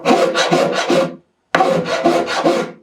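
A hand rasp scrapes across a wooden guitar body in quick, loud rhythmic strokes, two bursts of steady back-and-forth filing separated by a short pause.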